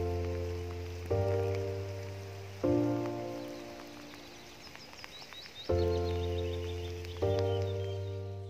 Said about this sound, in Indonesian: Tapi sekarang ada hujan